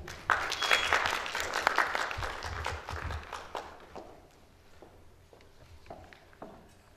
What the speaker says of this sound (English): Please give a round of applause and welcome her on the stage, Dr. Augustina Vendramini